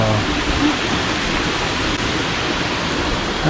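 A waterfall near a Bali rice terrace and forest rushes steadily nearby, a constant broadband hiss, with faint voices briefly at the edges.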